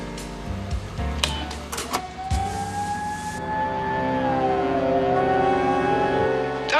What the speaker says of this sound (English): And the sirens were getting closer.